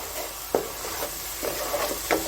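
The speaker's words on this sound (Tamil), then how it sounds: "ஃப்ரை பண்ணிக்கோங்க. அப்போ தான் அந்த ஆனியனுடைய ரா சுமெல்லாம் போகும்." Onions fry in a pan with a steady soft sizzle, broken by a few clacking stirs of a utensil against the pan at irregular intervals.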